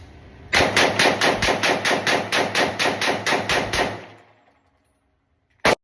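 Rapid mag dump from an FN FNX-45 Tactical pistol: about a dozen loud, evenly spaced shots in quick succession outdoors, then a fading tail and one more sharp sound near the end.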